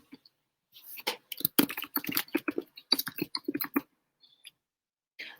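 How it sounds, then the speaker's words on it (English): Rapid typing on a computer keyboard, close and quiet, with irregular clusters of clicky keystrokes running for a few seconds, then a lull and a final few taps. "as you start typing in"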